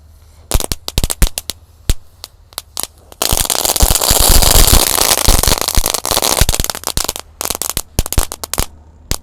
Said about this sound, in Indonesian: Yang pertama ini ada mercon telur dino pretek. Kita nyalakan, ini ada 3 pak sekaligus ya.